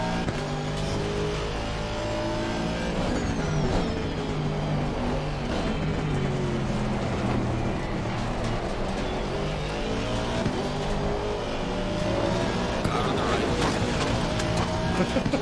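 Race car engines in Assetto Corsa Competizione on the Nordschleife roar continuously and loudly, revving up and down through gear changes with tire noise, a dense unbroken engine drone throughout.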